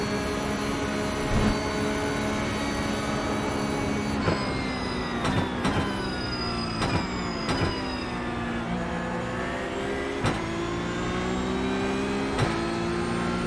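Porsche Cup race cars at Mount Panorama in the iRacing sim scream past, a loud, close engine drone with sweeping pitch shifts as several cars rise and fall through gear changes, no talk.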